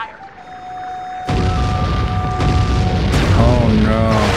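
A cannon fires in a video game with charged shots: a sudden loud boom followed by rumbling blasts and rising whistling game effects, while a voice speaks over the action.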